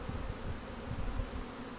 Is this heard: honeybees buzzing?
yes